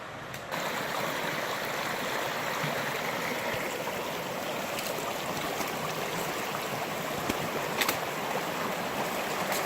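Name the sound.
stream of water flowing on a mountain hike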